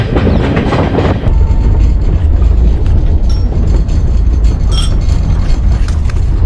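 A Duronto express train rolls along the rails in the evening on its way to Gwalior: a loud, steady broadband rumble and roar of wheels and carriages, with a faint clickety-clack texture, continuous throughout.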